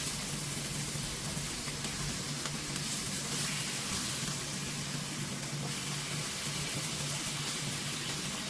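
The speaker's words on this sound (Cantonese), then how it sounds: "咁我哋就反轉再煎另外一邊" Scallops pan-frying after being flipped to cook the other side, a constant close hiss of sizzling oil with a faint low hum underneath, steady throughout with no talking.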